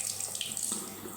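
Lukewarm tap water runs steadily into a bathroom sink for face washing, a close, even splashing stream with no voices.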